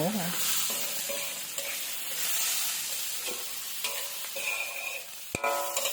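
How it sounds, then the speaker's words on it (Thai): Mee sua noodles stir-fried in a pan with bean sprouts and chives, a steady sizzle and frying hiss with scraping stirs and clinks of the utensil throughout, close and continuous with no talking. "ผัดแป๊บเดียวแล้วก็ปิดไฟเลยนะคะ"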